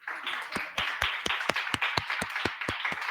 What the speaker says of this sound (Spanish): acabamos con el aplauso y ya nos vemos en clase